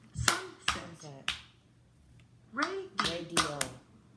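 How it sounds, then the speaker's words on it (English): A child claps along to spoken words to count syllables in a classroom lesson, with sharp separate hand claps in small groups and a faint voice between them. "Clap with me as I say these words."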